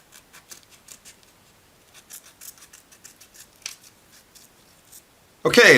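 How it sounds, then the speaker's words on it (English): Scissors cut out small felt pieces for a Spitfire model kit, making a run of quiet, rhythmic close snips, then a sudden loud rustle or knock at the end. "Cut them out."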